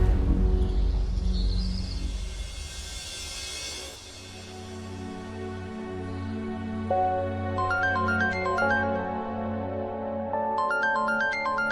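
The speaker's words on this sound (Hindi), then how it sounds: "मरियम, फोन सुन तो लो" A mobile phone rings with a melodic electronic ringtone, repeating chiming phrases that rise out of a swelling dramatic music score in a Pakistani TV drama scene.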